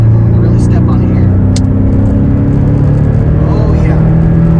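A 2019 Porsche 718 Boxster is downshifted and then floored, its engine pulling hard with a strong, steady low drone heard from inside the cabin, with a voice talking over it.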